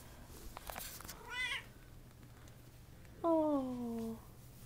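A kitten meows twice, a brief high cry and then a longer, drawn-out descending mew, close and clear against a quiet background.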